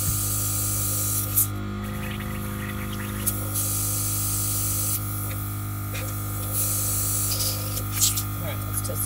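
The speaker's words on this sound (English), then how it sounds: "it's spraying really nice and evenly" Airbrush spraying water during cleaning gives a steady close hiss over a constant electrical hum, with a few small clicks and brief changes in spray strength.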